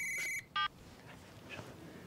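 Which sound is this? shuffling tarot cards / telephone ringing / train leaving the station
telephone ringing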